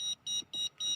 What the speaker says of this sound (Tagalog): Doon tayo sa buzzer guys.